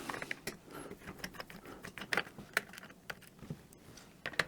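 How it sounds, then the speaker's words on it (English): Small metal screws being worked out of an Acer Aspire TimelineX 3820T laptop case, a quiet sequence of short ticks, clicks and faint ratcheting scrapes close up, with no talking. "So all these screws has to come out."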